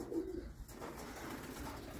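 Soft, low pigeon cooing from a flock of domestic pigeons, faint and close against quiet background noise.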